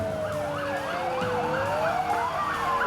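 Emergency sirens from fire engines, pump and chemical trucks and ambulances arriving at an emergency-response drill at an arts centre in Gyeongju, several wailing tones overlapping and rising and falling continuously, fairly close and loud.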